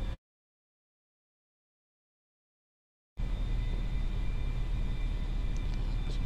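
An A-4 jet climbing after takeoff in the DCS flight simulator, a steady roaring engine drone that starts abruptly after about three seconds of dead silence and holds constant, with a faint high whine on top.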